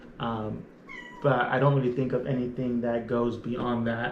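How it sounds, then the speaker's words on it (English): A house cat meows several times, clear and close, while a person talks over and between the meows. "That's my cat you guys are hearing."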